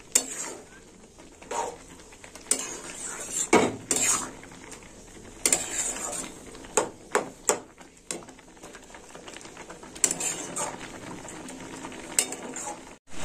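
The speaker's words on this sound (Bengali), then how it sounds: "বারে বারে নাড়তে হবে, নাহলে তলায় ধরে যাবে।" Cabbage kheer (payesh) being stirred in a pot: irregular scraping and clinking of a spoon against the pot, with bursts of clatter spread across the stretch. It is fairly close and there is no talk.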